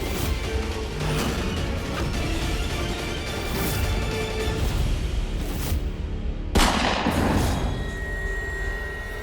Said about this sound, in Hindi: ये तो गोली चलने की आवाज।